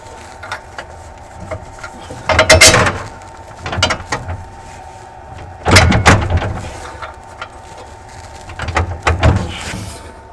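Metallic clunks and scraping as a bolt is pushed through a main actuator mechanism, four separate knocking bursts spaced a few seconds apart, close and fairly loud against a steady low hum.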